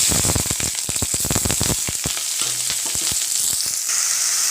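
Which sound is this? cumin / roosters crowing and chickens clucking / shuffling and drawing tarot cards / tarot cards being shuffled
cumin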